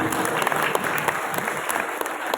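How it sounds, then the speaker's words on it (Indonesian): Audience applause for a foundation's chairman at an Islamic lecture gathering, a dense, steady wash of many hands clapping close by that holds through the whole stretch. "Tepuk tangan dong bagi ketua pembina"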